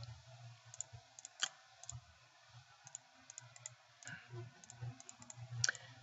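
Mouse clicks in CAD drawing software while selecting parts of an assembly, a run of faint, crisp, irregularly spaced clicks close by over a quiet low hum, with no talk.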